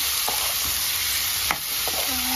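Chana sizzling and being stirred in a frying pan for a chicken curry, a steady close hiss with a few brief scrapes and clinks, no talking.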